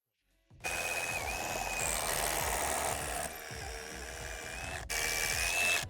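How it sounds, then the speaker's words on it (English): A continuous, loud whirring drill runs for several seconds with brief pauses and a change in pitch, boring holes into an exterior facade cladding panel. "Then drill the other holes first."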